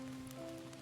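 Rain falling in the survival video game Outbound, a soft steady patter under a faint sustained tonal hum, quiet and continuous for under a second.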